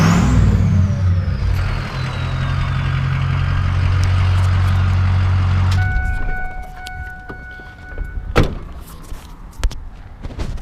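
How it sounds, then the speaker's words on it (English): Loud idling Ford 6.0 Powerstroke diesel truck with a deep exhaust rumble that cuts off midway, leaving quiet clicks and a few knocks. "I'm not talking about the engine, I'm talking about my exhaust"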